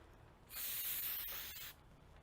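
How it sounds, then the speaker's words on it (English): A single hissing spray burst, lasting just over a second and close by, coats a linen sublimation blank before the quiet resumes. "let's go ahead and spray it."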